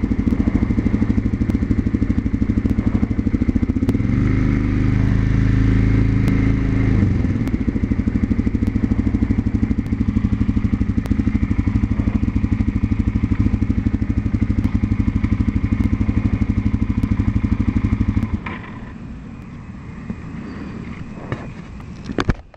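Suzuki DRZ motorcycle engine running steadily and loud at close range while riding, with a rough, clattering drone and a brief shift in pitch early on, before the engine abruptly cuts out and the sound drops to near quiet.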